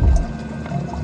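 Water pours and splashes in a tank holding a deep sea isopod, a short close burst of liquid sound with low rumble, alone without talk.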